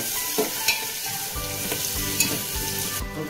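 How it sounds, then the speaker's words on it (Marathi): Chopped onions sautéing in a pan while cooking a dry chicken dish, giving a steady close sizzle with occasional scraping stir strokes, no voices. "कांदा आता आपण परतून घेऊया."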